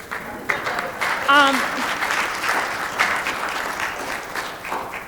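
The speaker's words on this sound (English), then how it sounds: "It's all right to clap about that, because I'm sure you guys are tired of it too" An audience at an education event on truth and equity claps in a steady, sustained round of applause, with a voice briefly rising over it.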